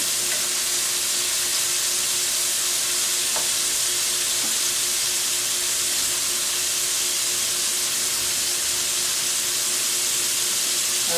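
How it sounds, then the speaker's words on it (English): Steady, dense sizzling of salmon nuggets and shrimp deep frying in hot oil, continuous and fairly loud for the whole stretch with no voices. "because again they're deep frying"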